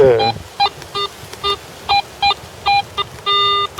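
A metal detector sweeping over a buried gold target gives about eight short, clear electronic beeps in an uneven rhythm, each with a bright ringing tone, over faint background hiss.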